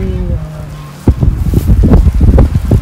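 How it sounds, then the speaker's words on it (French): Gusty wind buffets an outdoor microphone in low, rumbling bursts that swell and drop, loud and close, with someone speaking briefly in the background. "Il y a du vent."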